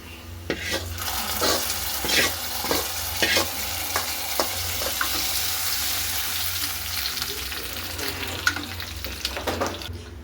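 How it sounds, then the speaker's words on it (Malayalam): Onion, garlic, curry leaves, split dried chilli and cumin frying in hot oil for a mansoor dal tempering, a steady loud sizzle with repeated scraping of a stirring spoon against the pan and no voices. "ഇതെല്ലാം മൂത്തതിന് ശേഷം അല്പം ജീരകം ഇട്ട് കൊടുക്കുക."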